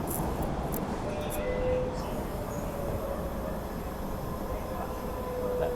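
A subway train runs along the track with a steady, loud broadband rumble and faint high squeals, continuous throughout.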